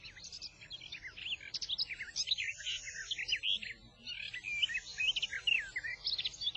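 Birds sing continuously in a lively stream of high chirps, trills and whistled phrases, with a soft low background rumble underneath.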